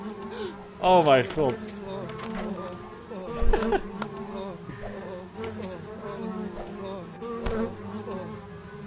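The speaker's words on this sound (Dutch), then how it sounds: "Ah, vliegen!" Buzzing flies in a video game, a droning insect hum running throughout beneath cheerful game music, with sporadic thumps and a brief exclaiming voice over it.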